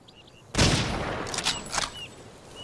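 Gunfire in the Hidden & Dangerous 2 video game, with a sudden loud burst of shots followed by a few quicker echoing shots that fade into a quiet background.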